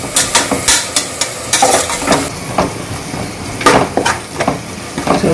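Onion masala sautés in oil for vegetable pulao, loud sizzling broken by repeated sharp scrapes and clinks of a spoon against the pot, in uneven bursts close up.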